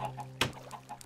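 Single short chicken cluck from a Minecraft farm, a quick faint squawk standing alone over quiet background hum.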